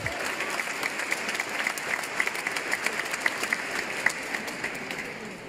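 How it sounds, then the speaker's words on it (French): Steady applause from a congregation during a religious teaching, dense clapping sustained throughout with a few sharper claps standing out. "Mais applaudissez-le, il est digne."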